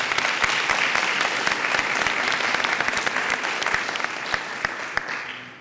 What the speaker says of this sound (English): we need to give them a big round of applause for that